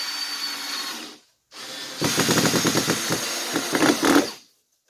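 A screw is driven with a power drill to fasten a router sled to a table beside an adjustable epoxy river form, a short burst followed by a longer stuttering whir with pulsing bursts as it tightens, close and loud.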